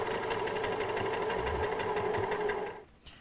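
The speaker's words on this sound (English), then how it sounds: "forward and back to anchor the stitching, and then off we go down" A sewing machine stitches a cushion seam, running steadily and loud at close range for nearly three seconds, then stops, leaving a brief quiet tail.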